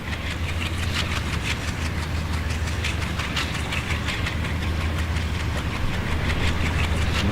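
A diesel locomotive idles in the rail simulator Trainz, a steady, loud engine drone with a low throbbing hum and an even, rapid knocking pulse running unbroken throughout, with no voices.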